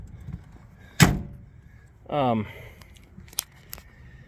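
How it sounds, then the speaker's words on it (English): A sharp thud from a 1960 Mercedes-Benz car door, then a short creaking swing and a few lighter clicks and knocks, close by in a quiet room. "I'm going to kind of close these doors up again"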